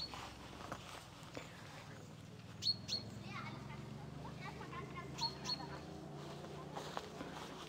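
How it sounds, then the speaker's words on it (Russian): Birds sing outdoors near a wooden hut on the Vesperweg hiking trail, with a few bright chirps rising over quiet surroundings while someone talks and footsteps crunch. "Ой, птички как поют классно."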